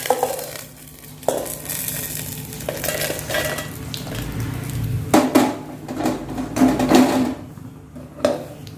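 Spices frying in a pan for Mangalore-style clam sukka, a continuous close sizzle broken by repeated scraping stirs and clinks of a spoon against the vessel.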